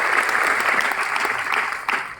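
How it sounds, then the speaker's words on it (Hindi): An audience at a Vestige business gathering claps loudly and steadily for a brief stretch, a full wash of many hands. "एक बार जोरदार तालियां योगिता के लिए।"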